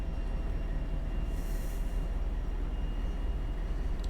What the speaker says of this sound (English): So look, the train is starting to go over that